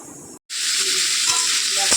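Ingredients for meat fried rice fry together in oil in a pan, making a loud, dense, steady sizzle that starts after a moment of silence.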